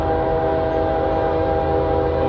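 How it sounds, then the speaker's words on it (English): Loud, sustained blast of a CSX freight train horn, a rich chord held steady and close with no break, sounding on a rainy day in Miamisburg. "this guy's horn is louder than the last guy"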